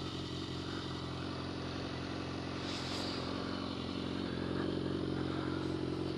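A BMW S1000R sport motorcycle engine runs steadily and loudly throughout, a constant close rumble with a slight rise in intensity toward the end.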